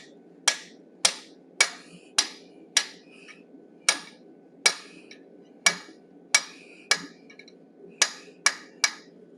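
A hammer strikes hot steel being forged into a wolf head, about fifteen sharp ringing blows at an uneven but steady pace, close and loud, each with a short bright decay, and no talking.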